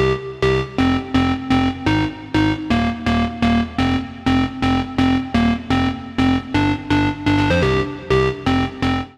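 Tech house synth lead from a song, a loud close stabbing riff of short rhythmic notes repeating in a steady pulse, no voices.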